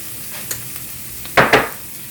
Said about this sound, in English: melt that butter, and since it seems to be melting, we want like a 1/2 cup of onions chopped